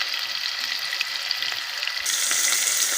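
Chopped onions and garlic frying in oil in a pan for homemade pizza sauce give a steady, close sizzle and crackle that grows louder and brighter partway through.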